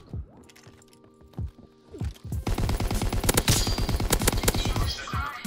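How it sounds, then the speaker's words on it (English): An LMG fires in a video game. A few spaced single shots come first, then a long rapid burst of loud, close automatic fire rattles on to the end. "I'm spawn trapping the fuck out of him with my LMG like a scrub"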